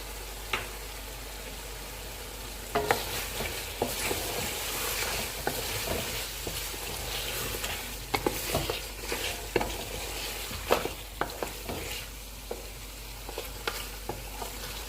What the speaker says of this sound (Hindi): काली मिर्च और नमक, और इन्हें थोड़ी देर तक भूनेंगे।